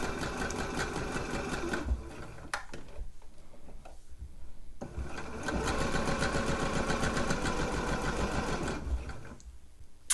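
A sewing machine stitches a dress side seam in close, steady whirring runs, with short pauses between bursts and a brief back stitch at the end.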